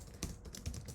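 Computer keyboard keys tapped while entering code, a few quick distinct clicks over about a second, close and fairly quiet with no voices.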